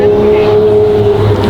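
Lamborghini Murcielago V12 with a manual gearbox running after a rebuild, a loud, close, steady throaty engine note with a voice talking over it briefly.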